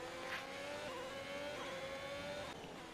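An F1 race car in F1 2021 at the race start, its engine a steady, high, droning whine held at revs, quiet and continuous throughout.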